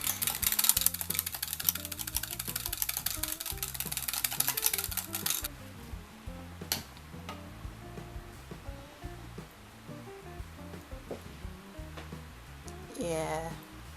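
Yellow soap batter being stirred and mixed in a container, a dense run of clattering, scraping strokes for the first few seconds, then quieter intermittent taps and scrapes, with brief speech near the end.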